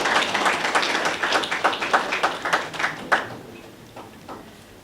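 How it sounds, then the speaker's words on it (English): An audience applauds at a book launch, a dense wash of clapping that thins out into scattered, separate claps toward the end. "a round of applause for Andrew Carnegie"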